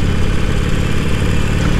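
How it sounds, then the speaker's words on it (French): Harley-Davidson motorcycle engine running close by, a loud continuous low rumble with a steady throb and no pauses. "elle fait un joli bruit en fait, ma moto"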